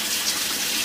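Kitchen tap water gushes steadily into a sink while a strainer used for homemade coconut coquito is rinsed, a close, even hiss of running water.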